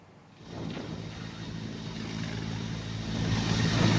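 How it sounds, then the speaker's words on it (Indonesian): Helicopter rotor churning as the aircraft comes down to land on an open field, a broad, steady whooshing drone with low thumping that swells louder toward the end, no voices. "putaran baling-baling helikopter mengakibatkan angin kencang yang membuat debu beterbangan"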